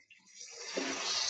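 Water poured into gravy cooking on a gas stove, a brief rising rush of liquid that swells into a steady splash, close and fairly soft.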